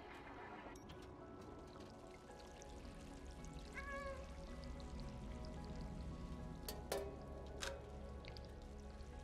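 A cat meows briefly in the video game Stray, a short rising cry heard over a steady ambient bed of rain and flowing water, with a couple of sharp clicks afterward.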